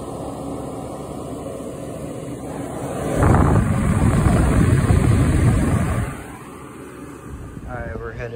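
An IDYLIS 12k BTU portable air conditioner blows warm air as a steady hiss that swells loudly for a few seconds mid-way, then drops back to a softer hum, with a brief voice near the end.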